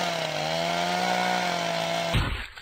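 A chainsaw from the video game Bionic Chainsaw Pogo Gorilla revs with a steady droning buzz, loud and close, for about two seconds before cutting off abruptly into a short noisy clatter.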